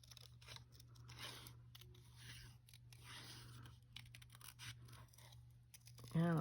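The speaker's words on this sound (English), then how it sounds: "maybe I'll just cut out this one and see if this one looks any better" Scissors cut paper collage pieces close by, a series of quiet, uneven snips and rustles of paper, with a brief louder knock at the very end.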